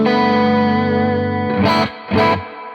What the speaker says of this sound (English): Here's the chorus sound.